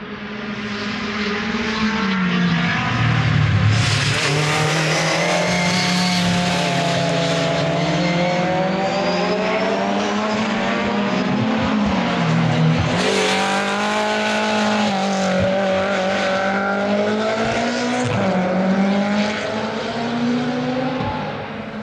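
Old race cars at the Nürburgring 24-hour race roar loudly and continuously, engine pitch climbing and dropping as the cars shift and pass close by, with no talking.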